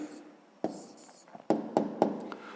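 A pen or pencil writes on paper in a quiet room, making a few short, distinct scratching strokes and taps close by, separated by brief pauses.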